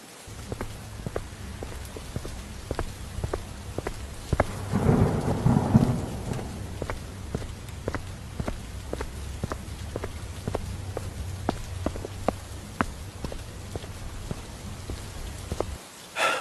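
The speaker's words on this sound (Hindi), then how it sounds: "बारिश बहुत तेज थी" Heavy rain pours steadily with a dense hiss and scattered drops, while a deep rumble of thunder swells near the start and then fades back into the downpour.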